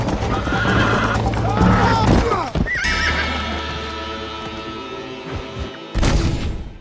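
Horse whinnies and clip-clopping hooves from the Western video game Red Dead Redemption, with loud neighs over steady galloping hoofbeats, a sharp thump near the end, and some voice in the mix.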